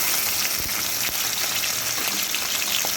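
Tangra fish fry in oil in a covered pan, giving a dense, continuous crackling sizzle that holds steady and loud throughout.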